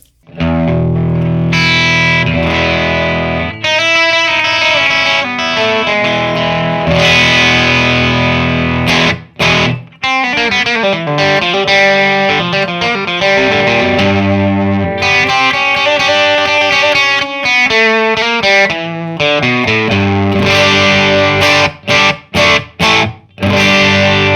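A bright, twangy Telecaster-style Taurus T electric guitar plays chords and riffs through distortion and effects, loud and continuous, ending in a few sharp staccato stabs.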